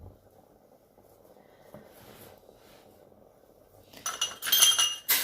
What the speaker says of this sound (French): Je vais couvrir ma marmite.